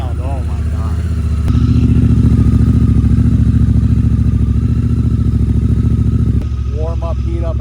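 A Honda Africa Twin with a BT Moto Stage 1 tune runs loud and close, its engine rising from a throbbing idle to a sustained higher rev before dropping back, with a voice talking briefly at the start and end.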